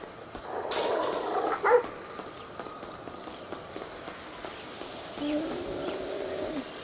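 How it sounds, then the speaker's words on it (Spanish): Dogs bark and howl in a few faint, scattered bursts, distant and low against quiet outdoor background noise in a neighbourhood street. "¿por qué se escuchan perros tan fuerte cuando no hay perros?"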